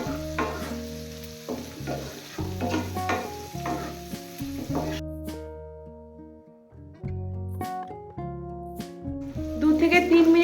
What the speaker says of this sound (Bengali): দু থেকে 3 মিনিট আমি পেঁয়াজ ক্যাপসিকাম ভেজে